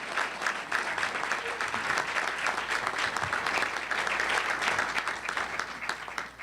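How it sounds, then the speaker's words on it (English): Audience applause at a governor's education initiatives event, a steady, dense clapping from a large crowd that holds evenly for about six seconds before easing off at the end. "Let's give Pam a round of applause."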